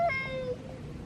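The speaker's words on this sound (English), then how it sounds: "Our cats are so vocal." A pet cat gives one close, loud meow that rises and then trails off into a drawn-out tail, with no talking over it.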